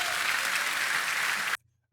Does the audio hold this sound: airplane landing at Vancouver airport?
no